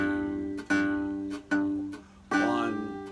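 A guitar in open G tuning playing delta blues, pinching the 5th and 1st strings together over a steady bass. Three bright plucked attacks ring out close and clear, with no voice.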